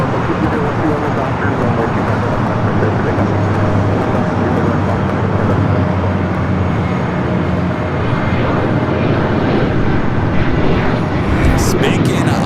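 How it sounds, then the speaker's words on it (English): An American Airlines Boeing 737-800 in TWA retro livery lands on runway 24 right at Los Angeles airport, a steady, loud broadband jet roar that holds for the whole stretch, with no talk over it. "The TWA retro livery, flight 3201, coming from Indianapolis, Indiana, 737-800, up there on the north side at 24 right"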